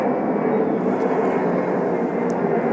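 A fixed-wing airplane flies overhead, a loud, steady broadband engine roar that holds throughout without voices.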